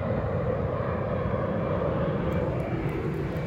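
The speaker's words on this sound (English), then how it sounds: "Look at the plane." A plane passes over snowy mountains in Troodos, Cyprus, a loud, steady engine roar that fills the whole stretch without fading, with faint higher ticks near the end and no speech.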